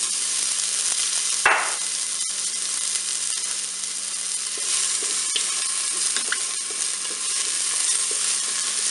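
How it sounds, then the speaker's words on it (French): Asparagus sizzles in hot olive oil inside a Cookeo multicooker pot, a steady bright frying hiss throughout with a burst as the spears drop in and occasional clicks of stirring. "je fais revenir mes asperges en mode doré pendant 1 minute"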